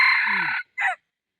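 A rooster crows loudly and close by in one long harmonic call, then gives a shorter second note before falling silent.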